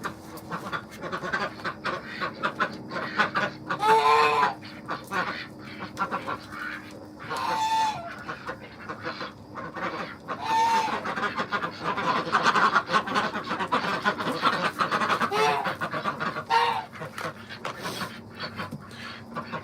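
Backyard chickens cluck at feeding time amid a mixed flock of ducks, turkeys and geese, with steady chattering, occasional louder squawks and quacks, and some panting and rustling close by throughout.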